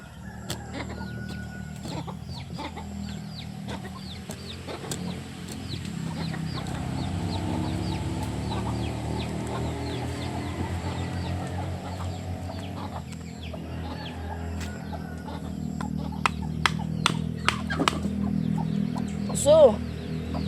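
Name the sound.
chickens clucking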